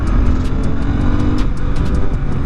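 A Royal Enfield Interceptor 650 parallel-twin motorcycle accelerates hard near 5,000 RPM on a test ride, loud and steady with a rising engine note and wind rush.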